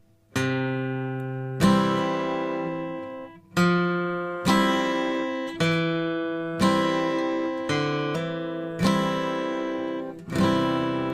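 A guitar riff played slowly, with about seven separate strummed chords ringing out in a steady, unhurried rhythm, each fading before the next.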